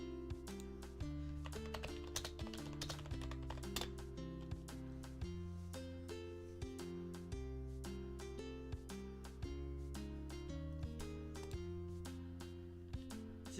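Computer keyboard typing clatters throughout, with rapid irregular keystrokes over steady music from a role-playing game, fairly quiet in the mix.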